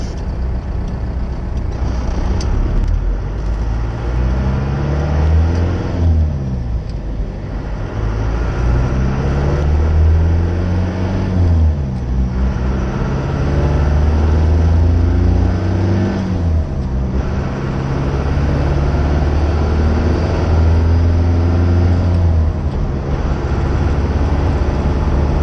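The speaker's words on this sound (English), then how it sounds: "It's only 3/4 throttle. We're at 65 already." A diesel vehicle accelerates at three-quarter throttle, its loud, steady engine drone rising and falling through repeated gear-like pitch sweeps over a constant road and wind roar.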